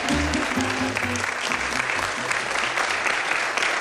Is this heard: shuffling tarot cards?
no